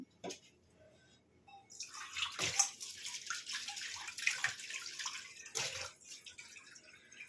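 Water poured into a pan of wedding-style parse fish curry (macher jhal), splashing and trickling in several uneven bursts, close and fairly soft, with no talking.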